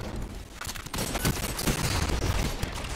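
Scout rifle firing in the video game Destiny 2, a dense run of sharp rapid shots over about three seconds, loud and continuous with no pauses.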